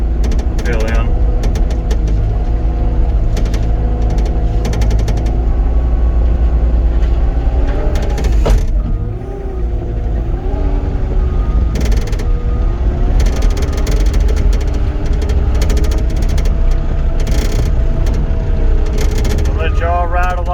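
A Cat 259D skid steer loader raking dirt during finish work on a yard: a loud, steady diesel drone with whining hydraulics and clanking, rattling metal throughout, briefly dipping midway.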